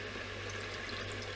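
Water poured into a cooking pot while braising homemade chicken with potatoes, a brief steady trickling rush held at a soft, even level.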